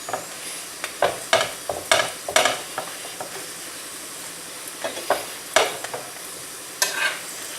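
A paratha frying in ghee on a pan crackles and sizzles in repeated short bursts, like a spoon pressing or spreading as it cooks. Quieter sizzling fills the gaps, close by and with no voices.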